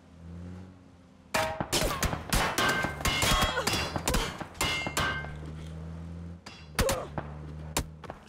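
Sharp, loud M16 rifle shots in PUBG, fired toward a lighthouse during a pro scrim match, cracking off in a fast irregular burst with clanging impacts before tailing into scattered single shots.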